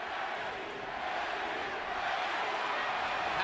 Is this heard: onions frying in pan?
no